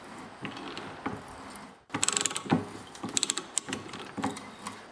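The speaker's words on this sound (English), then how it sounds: "I'm going to go back and forth just to clean the threads, and it also releases the pressure on the cutters" Hand pipe threader ratcheting back and forth on compressor pipe, close clicking bursts of pawl and gear clatter in quick irregular runs, with one short pause partway through.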